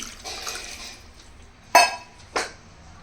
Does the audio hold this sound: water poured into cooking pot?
yes